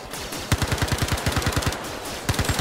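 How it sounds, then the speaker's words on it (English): Gunfire in the space game Star Citizen crackles as a rapid automatic burst, a steady string of loud close shots that pauses briefly and then resumes with a few more rounds. "I hear shots, but I don't see you guys."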